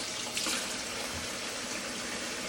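Tap water runs steadily into a kitchen sink while vegetables are rinsed under it, a close, even splashing rush with a brief louder surge early on.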